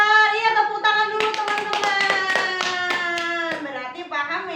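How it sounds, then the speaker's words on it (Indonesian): Children in a Qur'an lesson classroom clap together in a quick burst of sharp, close hand claps, with loud young voices chanting or calling out over and around them. "Iya, tepuk tangan dulu"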